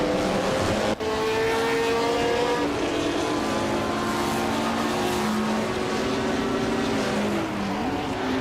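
Engines of 1956 Lancia D50 race cars in a racing video game at Suzuka West, a loud continuous high-revving drone with shifting pitch and gear changes, a brief dip near the start, no talk.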